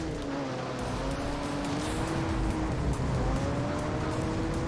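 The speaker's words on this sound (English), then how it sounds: "this was a really slow Corolla" A slow Toyota Corolla driving in the racing game Juiced, its engine holding a steady drone with gently rising and falling pitch, loud and continuous throughout.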